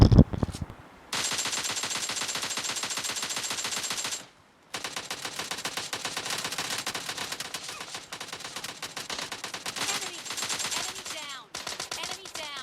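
Bursts of rapid automatic gunfire from the PUBG Mobile Lite battle game ring out loud and nearly continuous, with a brief pause partway through before the shooting resumes in dense volleys.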